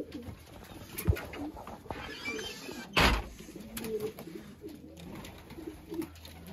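Pigeons coo softly and repeatedly in a quiet space, with a brief knock partway through and low background hiss.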